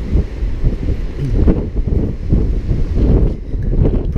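Strong wind buffets the microphone at the front of an MSC Meraviglia cruise ship at sea, a loud continuous low roar with gusty swells and no speech.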